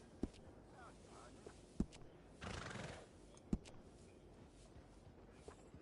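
A horse in Red Dead Redemption 2 gives a brief snort or whinny amid faint game ambience, with a few sharp isolated clicks around it and no one talking.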